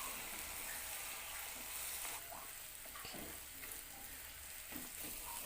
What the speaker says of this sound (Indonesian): masukkan telur yang udah dikocok tadi. Diaduk dan dibikin telur orek.